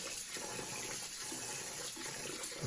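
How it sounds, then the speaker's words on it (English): Sweet rice is gently washed in water for huangjiu rice wine, a soft, steady swishing and trickle of water heard close by and faintly, with no talking. "start with 1 kilogram of sweet rice, huangjiu. And wash that gently for 15 minutes"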